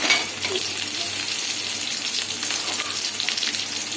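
Beetroot sautéing in a pan for a Tamil-style beetroot chutney, giving a steady close sizzle and frying hiss throughout, with faint stirring scrapes and no talking.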